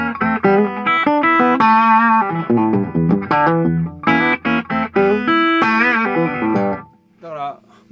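A distorted Gibson Les Paul Deluxe played straight into a 1987 Marshall JMP50 with an attenuator set to 8 dB, giving loud, sustained crunchy chords and riffs with short gaps, then a quieter tail near the end.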